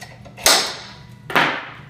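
A center punch is tapped twice against metal while a table is being fixed, giving two sharp, close metallic strikes about a second apart, each ringing briefly before fading.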